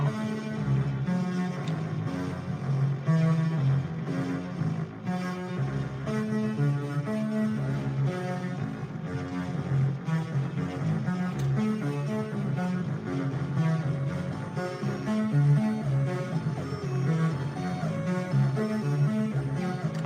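Analog synthesizers play a dense, steady electronic music passage with layered sustained tones and a rhythmic pulse, continuing at a moderate level for about twenty seconds.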